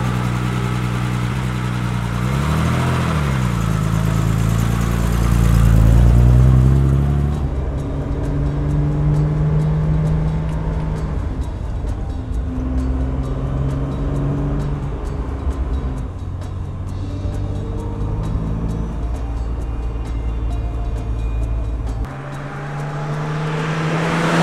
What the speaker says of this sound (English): This car has almost 300 horsepower, 5-speed transmission, very fast and comfortably fast.